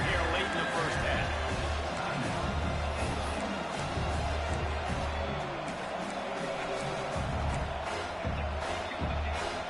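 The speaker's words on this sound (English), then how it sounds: "this crowd is at fever pitch" Football stadium crowd at a Penn State game roaring steadily through a late first-half timeout before a red-zone third down, a dense continuous wall of noise with a commentator's voice over it.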